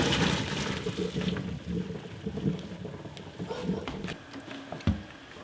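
Water from a pot of boiled potatoes pouring off through a drain in a home kitchen, a continuous splashing rush that tapers toward the end, with a sharp knock near the close.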